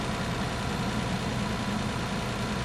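A Hurricane booster pump engine idles steadily, a continuous even rumble with no change in level and no voices over it.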